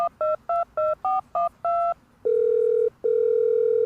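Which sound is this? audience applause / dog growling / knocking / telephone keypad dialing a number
telephone keypad dialing a number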